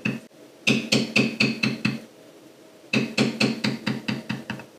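Mallet striking a leather beveling tool on carved leather, two quick runs of about seven crisp taps each, separated by a short pause, close and clear with no talk.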